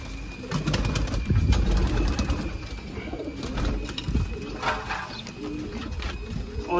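Soft, low cooing from pigeons close by, repeated against a steady background hum.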